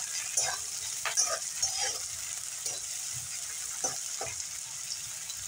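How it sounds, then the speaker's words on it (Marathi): Vertically sliced vegetables sauté in oil in a pan, giving a soft, fairly quiet sizzle punctuated by scattered light clicks and scrapes as they are stirred. "ते आता आपण याला हलकासा गुलाबी रंग येईपर्यंत छान तेलावरती परतून घ्यायचा आहे"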